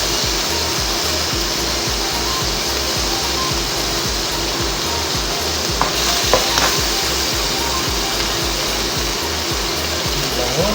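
Bagoong fries loudly in a pan on a strong flame, a constant close hiss with a rhythmic scraping stir repeating throughout.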